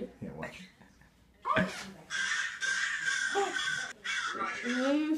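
A crow gives several loud, harsh caws in a row, close and clear, breaking through between bits of casual conversation and a short chuckle.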